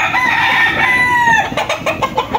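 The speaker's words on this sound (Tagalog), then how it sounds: "Yan yung ating mga manok dito" Chickens cluck loudly up close while a rooster lets out a long crow, followed by a burst of choppy clucking calls, just after rain from a typhoon.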